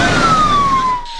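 An ambulance siren wails loudly in Nairobi night traffic, one long falling tone sweeping down close by before cutting off.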